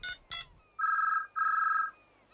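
In a cartoon, a telephone gives two short electronic beeps, then two long, steady trilling rings separated by a brief pause, clear and close with no talk.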